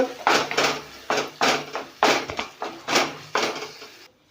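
A spoon knocks and scrapes rhythmically against a pan, about eight close, clattering strokes, while roasted tomatoes are mixed into mashed eggplant for baingan bharta; no voices.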